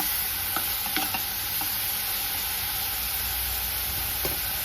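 Mushroom masala for a pepper mushroom fry sizzling steadily in a pan, a dense, continuous hiss with a few faint utensil clicks scattered through, close and even throughout.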